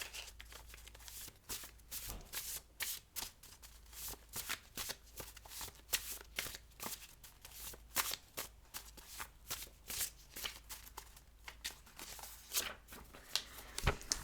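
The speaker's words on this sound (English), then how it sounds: "I'm just going to pull a couple more cards." Tarot cards are shuffled close up in a long run of quick riffling bursts and soft slaps, a rapid uneven rhythm that continues with no talking.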